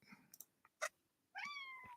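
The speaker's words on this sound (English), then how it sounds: "Of course, the cat want to come." A cat meows once in a rising then falling call, close and fairly quiet, following a few scattered soft clicks and knocks in an otherwise still room.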